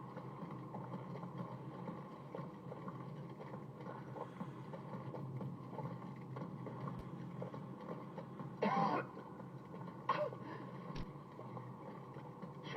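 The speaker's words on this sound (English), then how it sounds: "Because of the cough." A character coughs in a Final Fantasy XVI cutscene, a short raspy burst near the end of a long stretch of low, windy ambient rumble, with a couple of faint catches after it.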